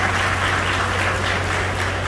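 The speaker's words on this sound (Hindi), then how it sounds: "हमारी महिलाएं ताली लगा रही हैं" Women at a gathering of lawyers applaud in a dense, continuous burst of clapping that stays steady and fairly loud from start to finish, with no speech over it.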